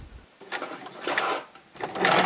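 A home sewing machine stitching a hem in short bursts, its motor revving up and racing a few times in close succession, near and fairly loud, with no talk over it.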